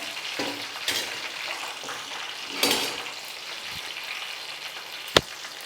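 Whole green chicken, turning brown, fries in a pan with a steady hiss of sizzling oil, broken by a few stirring scrapes and a sharp metallic clink near the end.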